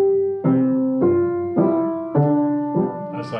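Piano playing a bouncy jazz or ragtime pattern, a run of separate accented chords struck at a regular beat, close and clear with no voices.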